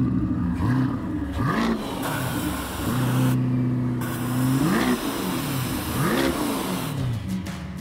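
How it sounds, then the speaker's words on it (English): A C8 Corvette with a nitrous setup revs hard several times, its engine note rising and falling in loud, close bursts, with a steady held rev partway through and a brief hissing gap that may be a nitrous purge. "Hey, Luis, open the nitrous bottle there."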